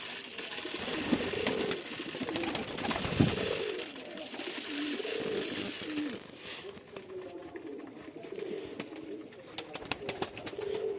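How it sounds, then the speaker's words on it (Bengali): Farm pigeons coo in soft, repeated low calls close by, with brief rustles and faint background noise between the calls. "নতুন কিছু পায়রা এনেছি"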